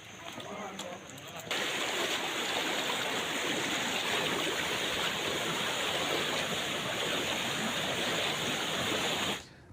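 Floodwater from the overflowing Babura River rushes in a steady, loud roar like a fast stream, continuous for most of the clip after a brief quieter start, with no voices over it.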